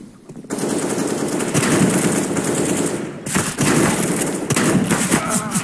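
Rapid automatic gunfire from CS:GO, loud and close, sustained bursts of shots with brief gaps between volleys, with a voice speaking faintly beneath.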